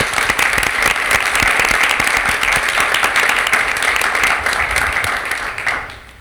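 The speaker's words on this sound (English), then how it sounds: "Let's give them a round of applause." An audience at a school board meeting applauds the recognized schools with loud, dense, sustained clapping that holds steady before tapering off at the end.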